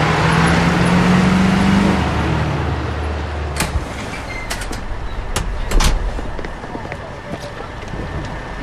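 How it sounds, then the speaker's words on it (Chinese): Inside a moving city bus: a steady low engine and road rumble with a few rattles and clunks, while muffled voices sound in the background. "我怎么会在公交车上？"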